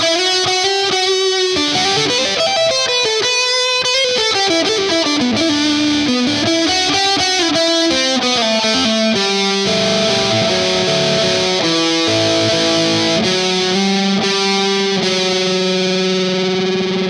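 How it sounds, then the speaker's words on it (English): A distorted Fender Telecaster electric guitar plays a metal melodic line and chords, soaked in reverb so each note rings and trails off, loud and up close. "And now we're gonna add some reverb."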